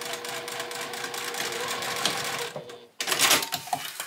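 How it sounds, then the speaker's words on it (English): A sewing machine stitches a fabric tote bag in a fast, steady rattling run. It stops briefly, then starts up again at close range. "I'm going to sew a little bit on both sides of this bottom, making sure I backstitch"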